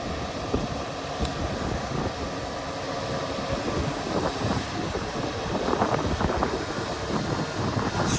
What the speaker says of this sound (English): And strong wind now.